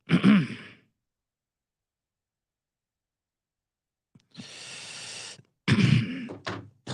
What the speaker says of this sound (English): that was bad coughing